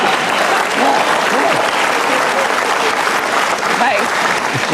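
A studio audience at an Indonesian television talk show claps loudly and steadily throughout, a dense, sustained wash of applause with voices faintly mixed in.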